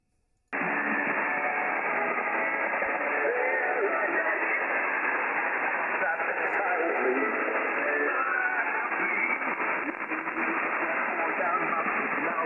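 Steady, hissy ham radio receiver noise on the 40-meter band through a folded dipole antenna fills the clip, band-limited and constant, with faint garbled voices buried in the static.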